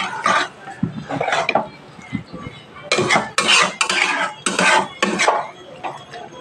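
Okra is stirred gently into a mustard and poppy seed paste in a pan, with a spoon scraping the pan in short repeated bursts, close and clear, with quiet gaps between strokes.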